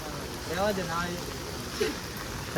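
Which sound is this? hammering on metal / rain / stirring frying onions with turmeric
rain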